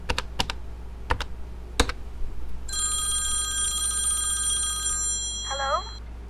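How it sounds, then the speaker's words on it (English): A telephone is dialed with a quick run of clicks, then a steady electronic ringing tone sounds for a few seconds before a short voice cuts in at the end. "Abby smiled and dialed the phone."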